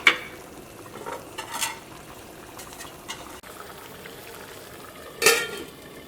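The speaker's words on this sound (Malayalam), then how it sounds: "ഇതാ നന്നായിട്ട് തിളച്ചിട്ടുണ്ട്" A pot of green gram curry without coconut simmers on the stove, giving faint, intermittent bubbling pops and a few soft clinks, with one louder burst near the end.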